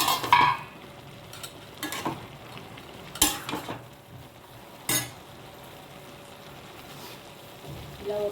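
A vegetable, meal maker and bean curry seasoned with turmeric and red chilli simmers in a pan, with a low steady bubbling and a few sharp clinks of stirring or utensils against the pan.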